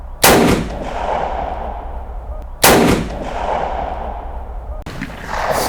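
A Saiga-12 semi-automatic shotgun fires three sharp, loud blasts spaced a couple of seconds apart, each followed by a fading echo, outdoors with no talk between shots.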